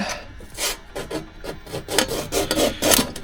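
A scriber drawn across sheet metal during a car rebuild makes close, scratchy rasping strokes in a steady back-and-forth rhythm, about a dozen passes with no talk.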